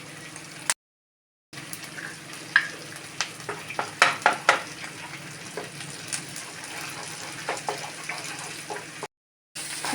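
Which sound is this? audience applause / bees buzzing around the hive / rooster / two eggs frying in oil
two eggs frying in oil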